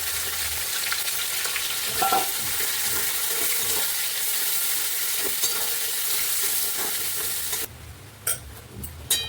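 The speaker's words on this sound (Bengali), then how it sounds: "কেটে রাখা পেঁয়াজটা দিয়ে দেবো।" Chopped onion frying in oil with bay leaf, star anise and whole garam masala for a Kashmiri mutton dish. A loud, close, continuous sizzle with stirring scrapes runs for most of the time, then drops to quiet with a few clicks near the end.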